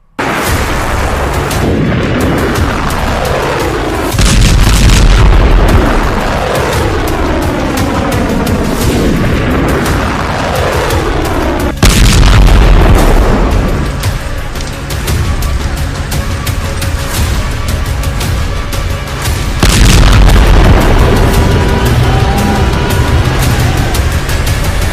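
Hezbollah missiles striking Israel: repeated heavy booming blasts that rumble on through the whole stretch, with strong surges around the start, the middle and near the end, and no talking.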